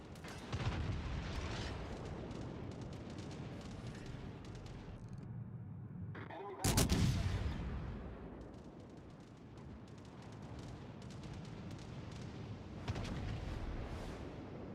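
Naval guns fire at an enemy warship during a video game battle, a dense barrage of booming artillery with one especially heavy blast midway, close and loud over a constant rumble.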